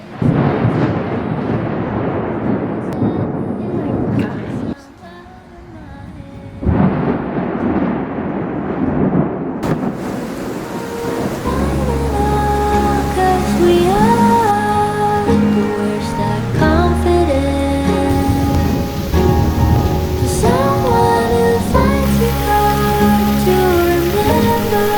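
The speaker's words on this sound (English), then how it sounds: "Ooh, it is rolling in. It's about to pour." A summer storm opens with a broad rumble of thunder and heavy rain washing loudly, breaks briefly, then surges again before music takes over the second half.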